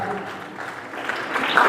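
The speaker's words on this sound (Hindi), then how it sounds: "जोरदार तालियां, क्योंकि ये तालियां ही बताती हैं कि हम कितना सम्मान कर रहे हैं।" Loud applause from a school audience at a mental-health program event in Lunkaransar, Bikaner, a steady wash of clapping that swells toward the end, with no talk over it.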